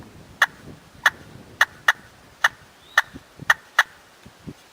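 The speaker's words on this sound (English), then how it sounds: "I'm going to start with my cuts over on the slate side." A hand-held turkey call on its slate side giving sharp hen cuts, about nine crisp, loud, high clucks spaced irregularly, close by and alone.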